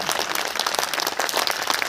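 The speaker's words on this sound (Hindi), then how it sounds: "मेरे हुजूर तालियां थोड़ी बड़ी कर दीजिए" An audience at a Hindi poetry recital claps steadily, a dense, even wash of applause throughout with no break.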